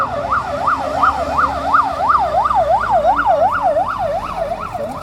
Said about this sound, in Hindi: लगातार एम्बुलेंस की आवाज़, सायरन की आवाज़